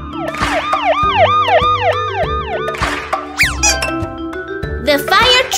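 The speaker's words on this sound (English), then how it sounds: "The police car." A police car siren wails loudly in rapid rising-and-falling sweeps amid a busy cartoon soundtrack of other effects and music, with a voice speaking over parts of it.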